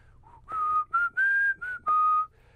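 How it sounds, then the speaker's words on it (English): A man whistles a short tune on a sports talk show, five or six clear, piercing notes in a choppy rhythm, close and loud with no talk over it. "I just began whistling"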